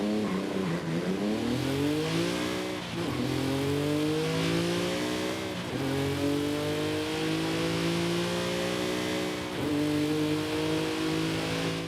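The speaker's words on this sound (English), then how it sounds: "now let's go ahead and take a listen to this thing's engine" A Nissan 370Z Nismo engine in Forza Horizon 5 revs repeatedly, climbing through rising pitch sweeps that drop off and build again, loud and continuous for the whole stretch, with no talk.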